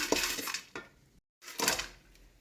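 Spices dry-roasting in a pan for homemade sambar powder, with a spoon scraping and clinking against the metal in a few quick bursts, then a brief silence before more stirring clatter.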